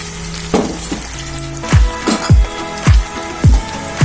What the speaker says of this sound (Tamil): இப்போ நம்ம அரைச்சிட்டு வந்த பேஸ்ட்டை இதுல ஊத்திக்கலாம்.